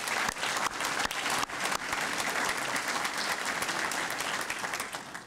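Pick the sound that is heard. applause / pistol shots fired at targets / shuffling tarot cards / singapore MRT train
applause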